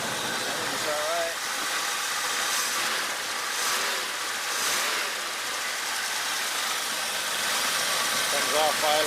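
A 1968 AMC AMX with a 401 engine idles steadily, a continuous mid-range rumble that swells slightly as it comes off idle, with someone talking over it.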